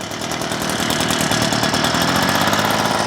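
A Wild Badger 43cc two-stroke backpack leaf blower engine runs at half throttle with the choke on, a loud close buzzing drone without pauses.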